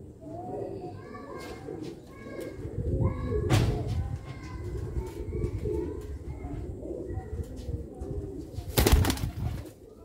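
Young Sialkoti black-mouthed pigeons coo in soft, repeated low calls close by, with someone talking over them, some wing flutter and a sharp burst of noise near the end.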